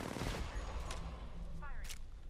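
Rapid bursts of gunfire in the shooter game Apex Legends, a dense volley at the start followed by scattered shots, fairly quiet and mixed with game effects.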